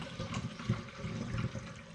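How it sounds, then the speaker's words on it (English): Eucalyptus cider poured into a vessel, a brief, close gurgling splash of liquid with a few bubbly pulses, heard alone. "and then we carry on with the big pour."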